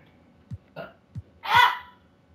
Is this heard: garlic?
no